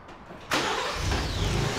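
A truck engine cranks and catches by remote start about halfway through, then settles into a steady, loud idle close by after a quiet lead-in.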